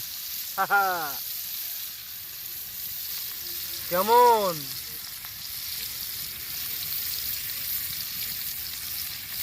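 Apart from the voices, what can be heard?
fish and chicken kebab frying in a pan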